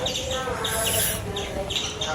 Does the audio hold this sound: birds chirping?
yes